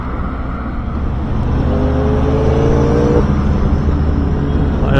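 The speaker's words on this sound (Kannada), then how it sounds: "ಎಷ್ಟೊಂದು ಬೈಕ್ಗಳು ಹೋಗ್ತಾನೆ ಇವೆ." Motorbikes pass on a road outside Bengaluru, a loud steady engine drone with one machine's rising whine sweeping by up close, no voices.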